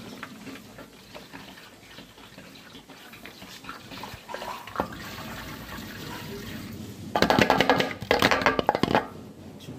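Petrol pours out of a motorbike in a steady splashing stream, building to louder, rushing bursts toward the end.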